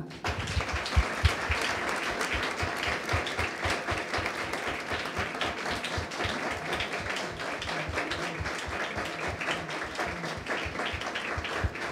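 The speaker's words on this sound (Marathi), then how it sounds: "टाळ्या वाजवूयात ना." A church congregation claps together during a Sunday sermon, a dense, steady crowd applause that carries on for the whole stretch with many overlapping hand claps.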